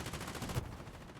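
Machine gun fire in the war video game Foxhole, a quick rattling burst of rapid shots that stops abruptly, then a faint low rumble, fairly quiet and without talk.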